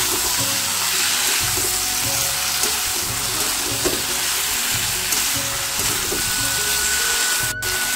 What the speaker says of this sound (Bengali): আমি এবারে দিয়ে দেবো সেই ভেজে রাখা সেই বড়িগুলো দিয়ে ভালো করে নেড়ে দেবো।